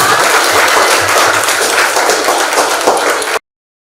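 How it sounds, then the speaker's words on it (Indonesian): A classroom of students claps at the end of a lesson. The applause is loud, close and continuous and stops abruptly, leaving silence. "Berikan tepuk tangan"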